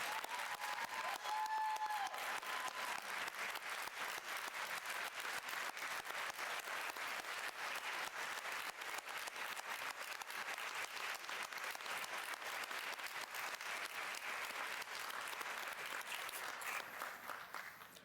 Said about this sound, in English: let's give this Southern Nash Athletics Hall of Fame class of 2026 one last round of applause